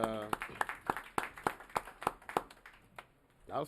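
Audience members at a North Miami city council meeting clap in a sparse, uneven patter of separate claps, with a voice speaking over the start and returning at the end.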